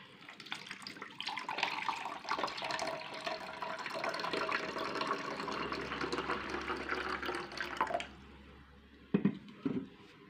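Blended homemade tomato juice poured into a glass, a steady liquid trickle and splash for about eight seconds, ending with a couple of soft clinks and thumps.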